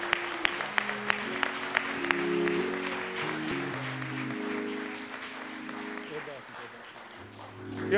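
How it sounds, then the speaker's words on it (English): Sustained applause from a large crowd at a public memorial gathering, with sharp claps over a steady wash, while a voice with music-like tones carries on beneath it. "Y'all, please give his family another round of applause."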